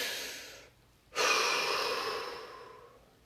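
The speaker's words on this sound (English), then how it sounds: "Take a deep breath." Deep breath drawn in and slowly let out, a brief airy inhale, a short pause, then a long soft exhale that fades gradually, close and alone.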